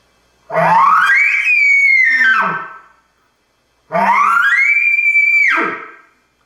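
Two long, rising then falling squealing calls from a voice imitating a frustrated elk bull answering cow calls, loud and close, separated by a short pause.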